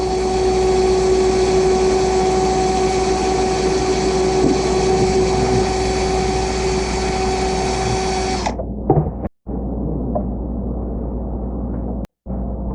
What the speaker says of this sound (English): and let's drill that hole